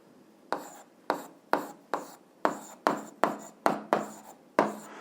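Handwriting during a physics lesson: about ten short, scratchy strokes in an uneven rhythm, close and fairly quiet, each stroke starting sharply and fading quickly.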